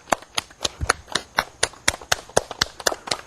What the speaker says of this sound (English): we're going to clap the hands together